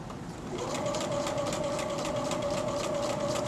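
A sewing machine runs a steady straight stitch along a zipper edge on a small ear bud pouch, with its motor whirring close and continuous after a brief start-up.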